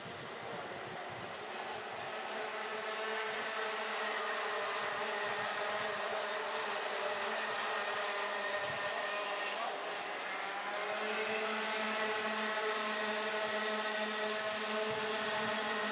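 Racing karts in a senior final at the Kerpen track, engines buzzing steadily at a distance throughout, with a shift in pitch and a denser, louder whine after about ten seconds as karts pass nearer.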